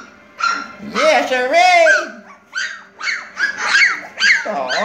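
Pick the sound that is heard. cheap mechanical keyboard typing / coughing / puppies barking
puppies barking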